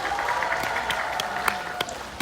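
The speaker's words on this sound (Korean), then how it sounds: "힘찬 발언으로 함께 해주신 두 동지께 들어가는데 큰 박수 부탁드립니다." A crowd at an outdoor disability rights rally in Seoul applauds in a steady, fairly distant patter, with scattered louder claps and some faint voices underneath.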